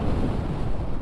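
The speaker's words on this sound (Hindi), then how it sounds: "उतनी तेज़ तो नहीं है, लेकिन हवा बहुत तेज़ है।" Strong wind buffets a closed helmet with a mounted mic while riding a motorcycle in Teth National Park, Europe, making a steady, loud, broadband roar that fills the whole moment without a break.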